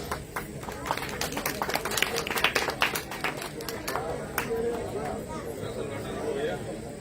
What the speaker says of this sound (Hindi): समस्त जन समुदाय जोरदार तालियों से स्वागत करें